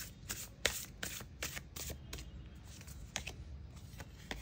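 A Moonology oracle deck of cards is shuffled by hand at close range, giving quick rapid riffling flutters and soft slaps in a continuous run, with no talking.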